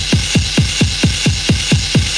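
A resampled drum fill with the cymbals removed repeats as a steady run of punchy low thumps, evenly spaced and loud, set over a constant bright hiss.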